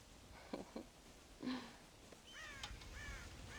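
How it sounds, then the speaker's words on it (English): Crows caw in a Red Dead Redemption farm scene, with several harsh calls spaced out over a soft outdoor ambience. Some calls sound near and some farther off, and no one speaks. "God damn crows!"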